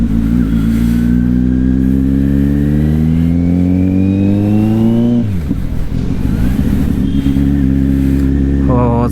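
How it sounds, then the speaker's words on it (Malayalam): A 2022 Kawasaki Z900 inline-four motorcycle engine revs up close and loud, its smooth tone climbing steadily in pitch for several seconds, then dropping back to a rumbling idle, with a voice speaking over it. "Aaha, smooth sound, inline 4ൻ്റെ power."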